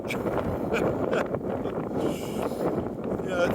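Strong wind buffets the microphone in a steady roar with gusty swells, low rumbling noise dominating throughout, on a mountain in the Hohe Tauern.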